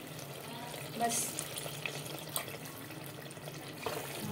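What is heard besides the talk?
pouring half a cup of water into cooking chicken liver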